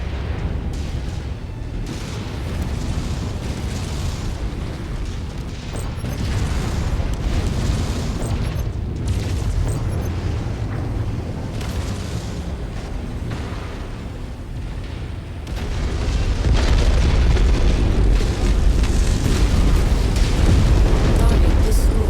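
Heavy missile explosions and booming impacts in the Mechwarrior 5 mech combat game, a dense, continuous rumbling roar that grows louder toward the end, with a voice faintly present.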